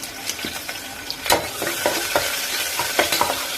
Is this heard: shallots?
yes